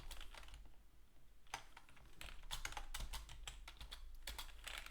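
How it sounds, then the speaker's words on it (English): Keys on a new computer keyboard are typed in quick irregular bursts of sharp clicks, faint and close, with no speech. "I have a new keyboard actually, I cannot type too fast."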